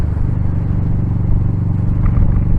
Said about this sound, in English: I'll just keep it running while I go past this old lad. Oh, that lovely old tractor.